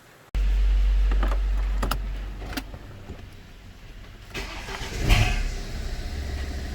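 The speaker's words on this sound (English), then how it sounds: "Yeah, that metal noise was the drive shaft." BMW 120d with an N47 diesel engine starting, then a rough idle with a metallic clatter from the drive shaft, loud and close with no talk.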